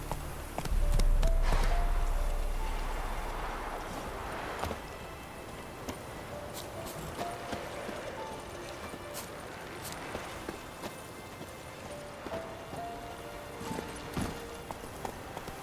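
Roach, a horse in The Witcher 3: Wild Hunt, gallops in quick rhythmic hoofbeats, close and clear, over low game ambience and music, with no talk while running.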